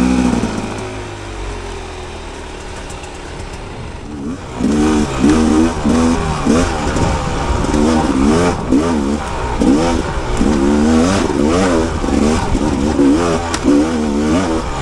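A 2022 Rieju MR 300 Pro motorcycle engine runs steadily while riding, near and loud, with a rising and falling warble as the throttle changes and a louder stretch of revving after the first few seconds, alone without talk.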